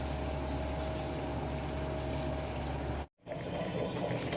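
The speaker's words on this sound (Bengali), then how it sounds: "জল দিয়ে দিলাম।" Water poured into a pot of spiced potatoes cooked with masala and green chilli paste, a steady close rushing pour that cuts off abruptly near the end before the stirring and simmering noise resumes.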